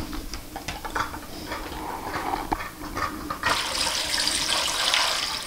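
Tap water running into a large bowl half filled with ice for an egg ice bath, a steady splashing stream that grows brighter and fuller midway, alone with no talk.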